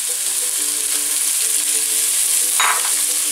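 Chopped leek dropped into hot extra virgin olive oil in a pot, giving a steady close sizzle and crackle that holds for a few seconds with a brief stir partway through.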